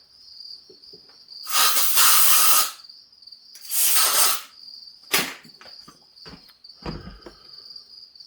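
Compressed air blows dirt and wood chips out of the intake of an Echo CS590 chainsaw in two loud, hissing bursts of about a second each, followed by shorter blasts, over a steady high-pitched whine in the background.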